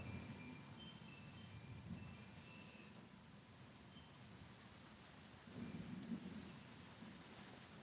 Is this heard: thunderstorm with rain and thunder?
yes